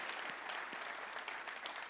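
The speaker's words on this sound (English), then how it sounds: "Let's give him a big round of applause." An audience applauds with a soft, dense patter of many hands, faint and distant, lasting about two seconds without voices.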